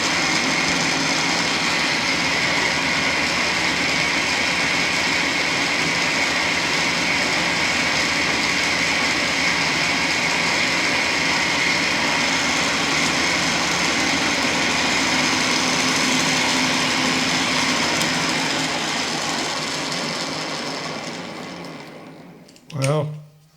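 A metal lathe with a retractable tool holder runs a long, steady cutting pass, its motor whine and broadband machining noise holding constant for about twenty seconds before spinning down, followed by a short final knock.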